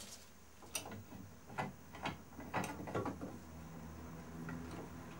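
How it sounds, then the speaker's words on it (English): A G-clamp being cranked tight onto a wooden scaffold board in a workshop, giving a series of sharp ratcheting clicks and knocks spread across a few seconds, fairly close and with no talk. "You can G-clamp the wood,"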